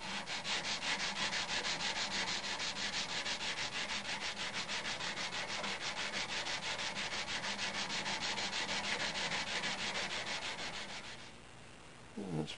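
Hand sanding of metal with 220 grit sandpaper, a steady rapid back-and-forth rubbing scrape that runs continuously and close up, easing off briefly near the end.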